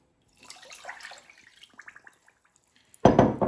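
About 400 grams of water poured into a pot already holding sugar, preparing an oxalic acid solution for beekeeping: faint clinks and drips first, then a sudden loud, close gush of pouring water.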